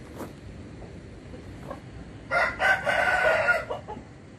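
Chickens clucking quietly in the background, then a rooster crows loudly and close by for about a second, with a few scattered clucks afterward.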